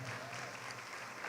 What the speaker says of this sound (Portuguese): E toda a igreja tome seu assento aplaudindo a Jesus